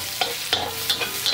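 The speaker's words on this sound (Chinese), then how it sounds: "然后加入干辣椒面继续炒" Mapo tofu ingredients stir-fried in a wok with dried chili flakes, giving a steady sizzle cut by four sharp, rhythmic scraping strokes of the spatula, close and fairly loud, with no talking.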